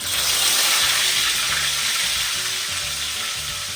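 Beef bistek fries in a hot pan with a loud, steady sizzle from start to finish, fading slightly toward the end.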